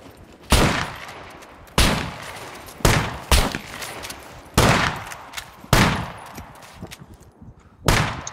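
Shotgun blasts in a first-person video game set in an abandoned castle, about seven loud, heavy booms spaced roughly a second apart, each trailing off with a short reverberant tail, with no talking.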